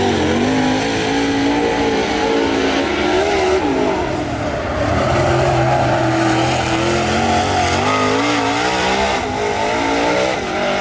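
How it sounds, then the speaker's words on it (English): A dirt-track race car runs a fast qualifying lap, its engine roaring loudly and continuously with rising and falling pitch as it revs through the corners. "Jimmy Owens, lap number 1, the 2023 winner of this event, his first lap."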